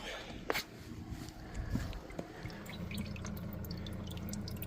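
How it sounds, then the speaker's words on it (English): Water trickles and drips steadily from clothes in a laundry spinner inside a van, with a few close knocks and taps over a low, continuous background rumble. "There's a good trickle, a steady trickle of water coming out of that clothes that I thought was already dry."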